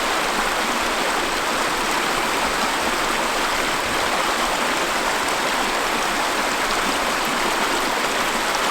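A mountain stream in the winter Cairngorms of Scotland rushes steadily over icy rocks near a remote bothy, producing a loud, continuous broadband roar of flowing water with no voices over it.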